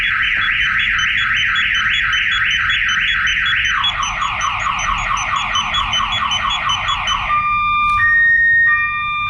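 A car alarm from a remote starter system blares loud and close, cycling through rapid warbling siren patterns before switching to steady tones, then a few sharp chirps near the end.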